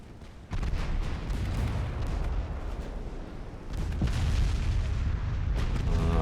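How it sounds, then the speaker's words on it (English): Heavy main guns of a warship fire in the naval game Ultimate Admiral: Dreadnoughts, a deep booming salvo and rumbling blasts that swell louder toward the end, with no voices. "And the main guns take out Ariadne now."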